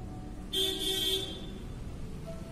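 A car horn sounds from outside in a sustained honk of about a second, over a low, steady hum of external road traffic, with a faint tone entering near the end.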